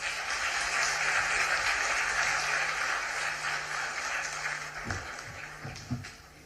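Steady applause from an audience at a Pune investment event fills the space, fairly loud and continuous, then thins out toward the end with a few scattered claps.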